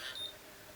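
A VS Curl Secret curling iron signals that it is ready. One short, high electronic beep sounds at the start, faint over a quiet background hiss. No voices.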